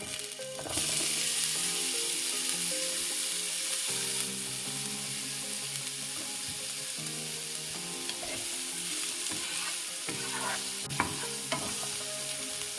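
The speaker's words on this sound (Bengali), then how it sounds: "উচ্ছেটা আমি ভেজে নেব" Bitter gourd frying in oil in a wok, a steady close sizzle running throughout with occasional stirring clatter, while a sustained tonal background hum plays underneath and no one speaks.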